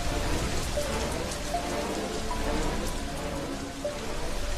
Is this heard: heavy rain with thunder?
yes